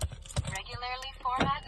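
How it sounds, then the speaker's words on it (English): Lock and unlock sequence on a 2016 Maserati GranCabrio operated by key fob, giving short clicks and actuator clunks with a brief whirring tone in between, heard close up in a quiet setting. "locking, unlocking the car."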